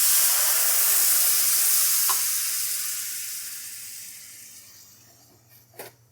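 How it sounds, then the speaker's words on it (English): A shot of white wine hitting a hot pan to deglaze it, a loud burst of hissing sizzle that steadily fades over several seconds, ending with a couple of small clinks. "Now use a little shot of white wine to deglaze the pan"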